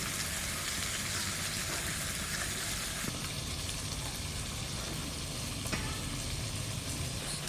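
Tengra fish fry in hot oil for a mustard-based curry, giving a steady, even sizzling hiss at moderate loudness with no voices.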